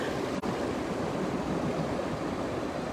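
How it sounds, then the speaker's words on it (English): Low sea swell washes against rocks at Caves Beach, New South Wales, making a steady, broad wash of surf noise with no distinct breaks, close and continuous, with no talking. "It's only a low swell, it's not strong sea"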